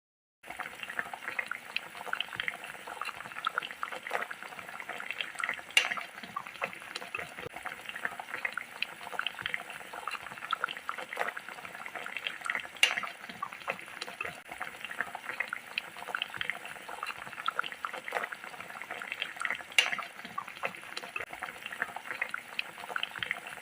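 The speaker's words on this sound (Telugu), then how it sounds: "ఇలా మరుగుతున్న పులుసులోకి పక్కన పెట్టిన చేపలను తీసుకుని ఇందులో వేసి 15 నుండి 20 నిమిషాల వరకు ఉడికించుకోవాలి." Telugu-style fish curry broth boiling in a pot, with a steady, dense bubbling and popping that runs nonstop and close up, with no talking.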